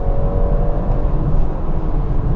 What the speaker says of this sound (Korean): 이 일렉트릭 모드에서도 이렇게 풀 스로틀을 하면 엔진이 개입을 하면서